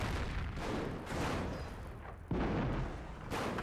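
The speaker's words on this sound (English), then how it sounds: "I think Orange has gone for artillery. Red, I'm not sure just yet. I don't know why, that seemed like a creeping barrage to me." Artillery barrage in the Company of Heroes strategy game: rolling, overlapping booms and distant gunfire rumble continuously, with a sharper blast partway through, and no talk.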